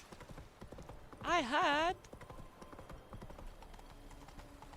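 Geralt's horse Roach gallops in The Witcher 3, with steady rhythmic hoofbeats running throughout and a loud whinny midway. Someone talks briefly over it.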